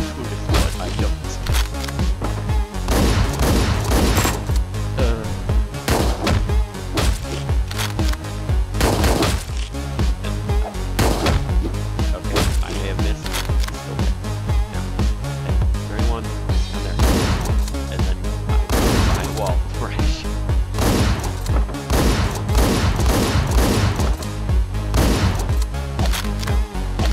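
Rapid bursts of enemy shotgun fire in the top-down action game Hotline Miami 2, loud sharp blasts repeating densely and irregularly over pounding background music with no pauses.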